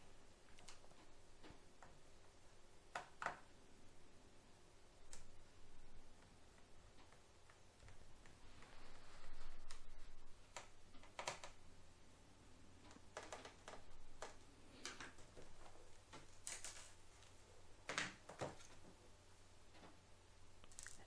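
Screws are removed from the bottom of a Sony Vaio laptop: faint, sparse clicks and ticks scattered irregularly over a quiet room background.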